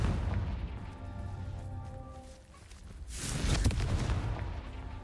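A Confringo fire spell erupts in a Harry Potter video game, a sudden bright blast landing around the middle and swelling over steady tonal background music and game ambience.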